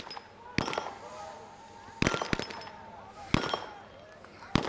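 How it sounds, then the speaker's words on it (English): Four loud, sharp explosive blasts roughly a second apart at a Kyrgyz special forces assault demonstration, each one booming and then decaying, with someone commentating throughout. "That's another big bang, like a bazooka, rattling the windows of my commentary box"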